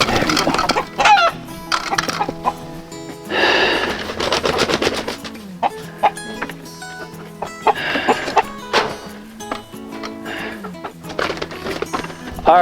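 Backyard chickens cluck in repeated bursts close by, with busy broadband rustling and a noisy background while hens are handled for wound treatment.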